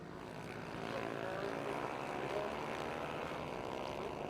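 Mini GP 190 racing motorcycles on track at Ellough Park Raceway, a steady blended engine drone held at moderate distance, with no crisp passes standing out.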